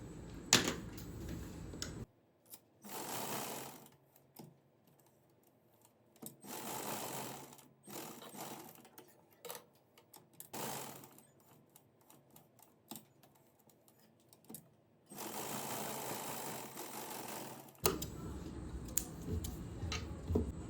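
A sewing machine runs straight stitches along blouse lining fabric in loud bursts of a few seconds each, with quiet pauses between runs as the cloth is repositioned.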